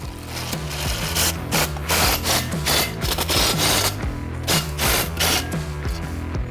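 A screw being driven to secure an aluminium railing, giving a close, rhythmic grinding and ratcheting with repeated bursts of turning and brief pauses, loud and alone.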